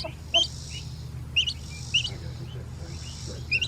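Sick chick gives short high chirps, about four separate peeps spaced through a low steady background hum, close and clear, with no talking.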